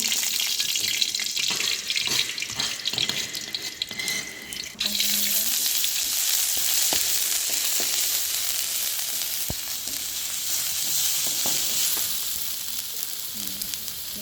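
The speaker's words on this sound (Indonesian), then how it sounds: "Setelah panas, kita masukkan bumbunya." A steady, loud hiss of spices frying in hot oil, sizzling continuously, with a brief quieter stretch early on and occasional soft clinks, no talking.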